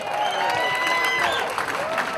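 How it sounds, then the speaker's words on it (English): A crowd at an outdoor Louisiana water festival applauds in a dense, steady patter, with whoops and cheers rising over the clapping throughout. "Let's give Drew a big round of applause here"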